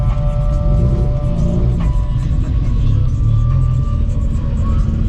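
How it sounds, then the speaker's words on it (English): A Volkswagen Beetle at a car meet gives off a loud, deep, continuous exhaust rumble close by, idling with slight throttle swells and no speech over it. "That Beetle though. That thing sounds mean."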